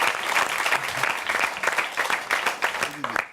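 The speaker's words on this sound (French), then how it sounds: "On peut les applaudir quand même." A game show audience applauds a team with dense, continuous clapping, while a voice talks over it throughout.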